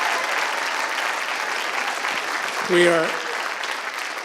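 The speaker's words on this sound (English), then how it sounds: "One more round of applause, please, for these wonderful group." Audience applause after a Sichuan opera performance of Buddhist and ghost plays, a steady dense wash of clapping filling the room, with a brief spoken word from a host near the end.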